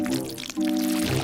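Chocolate paste pours and drips in a thick, wet, steady flow that dips briefly and then swells again. It sounds close and fairly loud, with no voices.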